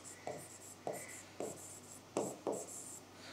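Accounts being written by hand on a board, five crisp, evenly spaced scratching strokes, close and clear over a low steady hum, with no talk.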